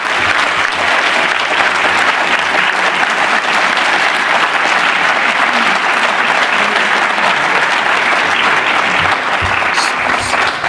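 Loud, sustained applause from an audience at Strongsville High School honouring its top 5% students, a thick unbroken roar of clapping from start to finish.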